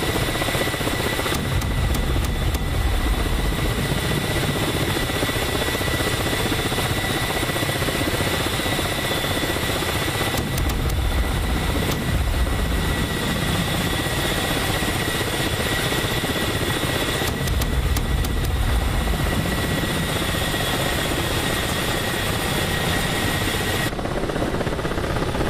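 Attack helicopters such as the Apache, Kamov and Hind in the DCS combat flight simulator, a steady loud rotor and engine drone running continuously, with periodic swells as the aircraft pass and manoeuvre.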